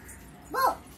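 A voice imitates a dog barking, giving a single short, rising-and-falling bark-like yelp near the middle against quiet room background.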